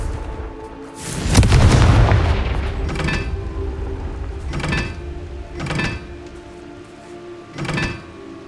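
Confringo fire spells bursting in the Hogwarts Legacy video game: one big rumbling blast followed by four shorter, sharper bursts spaced about a second apart, loud and close.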